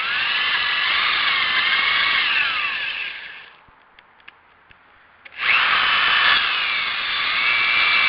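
A power drill whines steadily as it bores through a metal Wheel Horse steering shaft, stops for a couple of seconds with faint clicks, then starts up again loudly.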